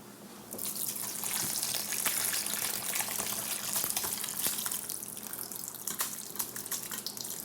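Shellfish stock pours steadily through a fine strainer lined with cheesecloth, a continuous close splashing gush of liquid without speech.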